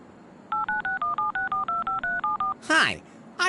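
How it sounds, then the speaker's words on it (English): Touch-tone phone dialing in the Leisure Suit Larry: Wet Dreams Dry Twice game, a rapid run of about a dozen clean beeping tones, then a short spoken burst and another brief voice at the end. "Okay, what should I dial?"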